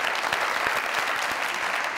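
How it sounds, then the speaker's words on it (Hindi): A studio audience on a comedy talk show breaks into strong applause, a dense and even wash of clapping throughout. "जोरदार तालियां"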